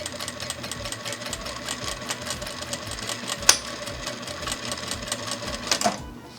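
Vevor industrial sewing machine back-stitching a double-layered ribbon tutu, a rapid steady needle clatter in even pulses near at hand, with a sharp click midway and the motor stopping at the end.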